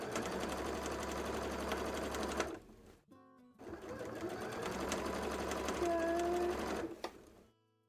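Sewing machine stitching cosplay fabric, a steady fast mechanical whir that pauses briefly and then resumes for several more seconds, fairly quiet and close.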